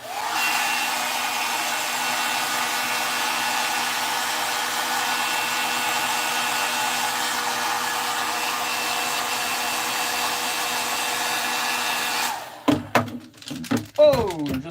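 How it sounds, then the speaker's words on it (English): A handheld blow dryer heats an Amazon liquidation sticker, running as a loud, steady whooshing roar for about twelve seconds before cutting off, followed by a few short handling knocks and thumps. "I'm gonna go ahead and bust out the blow dryer so I can take this Amazon liquidation tag off it"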